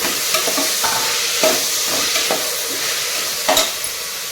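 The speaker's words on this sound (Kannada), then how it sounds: "ಟೊಮೆಟೊನ ನಾವೀಗ ಚೆನ್ನಾಗಿ ಮೆತ್ತಗಾಗೋವರೆಗೆ ಫ್ರೈ ಮಾಡ್ಕೋಬೇಕು ಫ್ರೆಂಡ್ಸ್" Two finely chopped tomatoes fry in a pan for a restaurant-style veg biryani, with a constant loud sizzle broken by several clear scraping stirs of a spatula.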